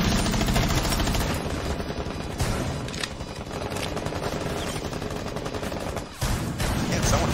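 Sustained automatic gunfire in Rainbow Six Siege: loud, relentless bursts of rapid shots fill the whole stretch, with a brief dip near the end before the firing resumes just as hard.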